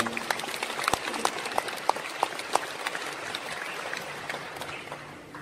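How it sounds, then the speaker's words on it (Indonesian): An audience claps at a motivational talk after a speaker praises Indonesia, steady moderate applause with a few sharp nearby claps, fading slightly toward the end. "Tepuk tangan buat Indonesia."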